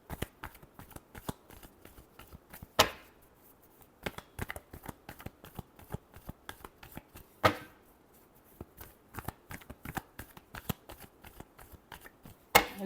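Tarot cards being shuffled over and over, a dense run of soft crisp riffles broken by a few louder snaps, close and alone with no talking.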